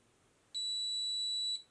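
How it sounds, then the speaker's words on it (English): One steady high-pitched electronic beep from a toy remote control pairing with a Barbie flying RC hoverboard sounds for about a second, clean and fairly loud against a quiet background. "So that beep means that they've paired now."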